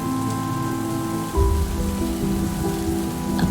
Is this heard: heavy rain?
yes